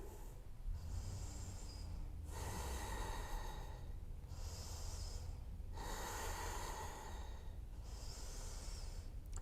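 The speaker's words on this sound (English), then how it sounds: "Three more breaths." Deep, controlled breathing in a morning yoga core workout, with full inhales and exhales cycling every couple of seconds, near and steady with no voices.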